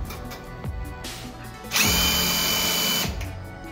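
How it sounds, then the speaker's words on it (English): A power drill runs in short bursts and then one longer, loud whir as it tightens screws on a mobile stand for a smartboard, close by, with no talking. "So now we're gonna turn the drill so it can be on the tightening."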